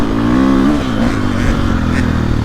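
A 2022.5 Gas Gas 450 Factory Edition dirt bike engine revs loudly up close, its rough, rasping note rising and falling over a steady throttle with mechanical clatter.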